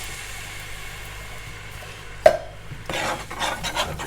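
A spoon stirs tomatoes into garlic and spices in a pan, with one sharp clink against the metal followed by a stretch of rough scraping and sizzling.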